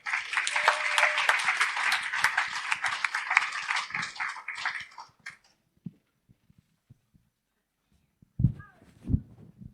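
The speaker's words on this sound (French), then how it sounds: "Et on peut les applaudir." Congregation applause during a French Christmas church service, a dense burst of clapping for about five seconds that tapers off, followed by quiet, a few soft knocks and low voices.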